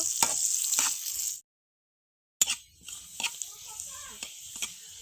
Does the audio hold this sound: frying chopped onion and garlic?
yes